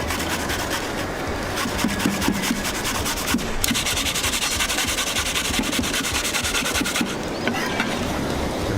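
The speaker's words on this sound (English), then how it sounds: "Now take your grater. Okay. Get your big side there and literally just grate" Pumpkin pieces are rubbed against the coarse side of a grater, giving continuous rhythmic scraping strokes up close, with no voices.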